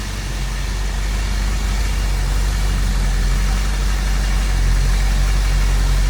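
A 1972 Plymouth Cuda with a 340 V8 idles steadily, its deep, even rumble and exhaust drone loud and close, holding a constant tone with no revving and no one speaking.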